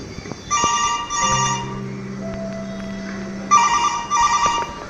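A telephone rings out at close range with a repeating electronic ringtone, in two bursts separated by a sustained dial tone on the line, with no one speaking over it.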